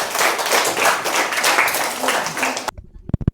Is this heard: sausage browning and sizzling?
no